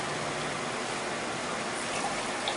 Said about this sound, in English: So I'm going to add about like 4 cups of water